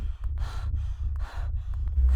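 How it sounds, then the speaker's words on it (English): A creature breathing in a space-station horror video game, slow heavy rasping inhales and exhales in a steady rhythm over a deep rumbling drone, close and fairly loud, with no voices. "I hear breathing."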